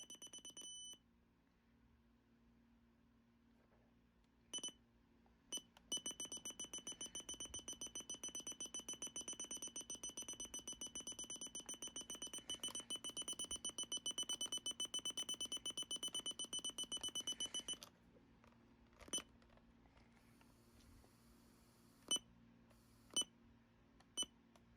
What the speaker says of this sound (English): That is horrendous. And there's no volume on that beep.